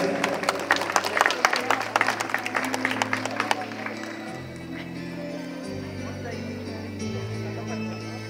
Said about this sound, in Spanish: El aplauso también de los presentes.